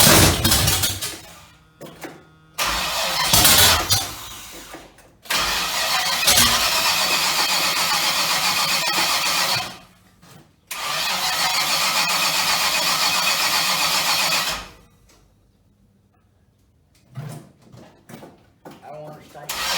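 A Chevy Nova engine under restoration cranking repeatedly, with long loud bursts of starter grinding and sputtering attempts broken by short pauses, close by, with people talking between tries.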